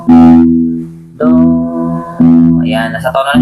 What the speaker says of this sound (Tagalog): Magkatugma na yung boses natin at yung tunog ng string.